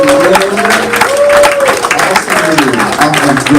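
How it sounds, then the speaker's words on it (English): A conference audience applauds in a busy burst of clapping while voices talk loudly over it, the clapping rising and dipping under the speech throughout. "can we please give a round of applause to Derek here today"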